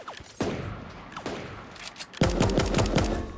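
Rapid bursts of video game gunfire, a couple of short volleys early on followed by a loud, sustained fusillade of close automatic shots with a steady rhythm.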